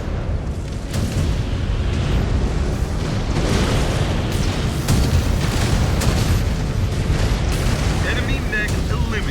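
Missile explosions in MechWarrior 5: Clans, a steady heavy roar of booms and blasts packed closely together and loud throughout.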